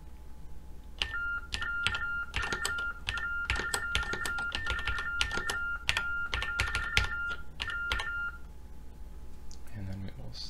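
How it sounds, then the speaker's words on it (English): An Ultratec Superprint TTY sends a message down a phone line as a run of rapid, evenly paced tone bursts lasting about eight seconds, steady and close, before the tones stop. "I'm going to go ahead and show the device transmitting and recording onto a phone"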